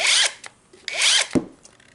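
A cordless 1/2-inch impact wrench, a Makita copy, runs in two short whirring bursts that stop abruptly under its auto-stop function, each cutoff followed by a brief clunk, loud and close.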